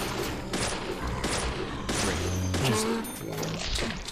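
Gunfire in Deadly Premonition, with several sharp shots spaced through a few seconds, mixed with thuds and clattering game effects and a brief tonal sweep near the end.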